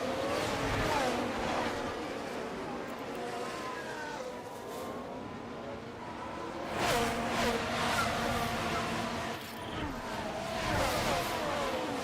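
F1 race cars in F1 Manager 24 run close together during an overtaking attempt at Australia, with a steady high engine whine that swells as the cars close in. A voice talks over the engines.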